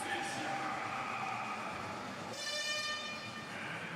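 Ambience at a train station on the way back from a London pro tour stop: continuous rumbling background noise with a rail tone mid-way, as people talk throughout.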